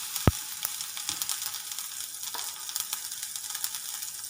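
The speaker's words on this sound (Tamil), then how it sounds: "கடுகு பொரிஞ்சதுக்கப்புறமா நம்ம அரைச்சி வச்சுருக்க சட்னியை இதுக்குள்ளே சேர்த்துடலாம்." Ground urad dal and onion chutney goes into hot oil with popped mustard seeds, giving a steady close-up sizzle and crackle with sharp pops and spatters scattered throughout, fairly soft overall.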